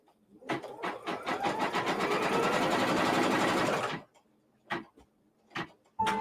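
A sewing machine stitches down the last piece of a string-pieced quilt pyramid block in a steady, close, loud whir lasting about three and a half seconds, followed by a few short bursts of stitching.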